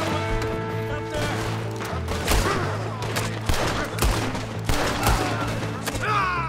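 Gunfire from Red Dead Redemption 2, with several sharp shots cracking over a constant low engine-like drone and busy game noise, moderately loud and close.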